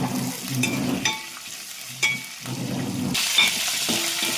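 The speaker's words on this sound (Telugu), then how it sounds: "అట్లనే దీంట్లో పచ్చిమిర్చి కూడా వేయాలి. బాగా నూనె లేగనివ్వాలి." Green chillies fry in hot oil with a steady, close sizzle as a spatula stirs and taps the pan a few times; no voices.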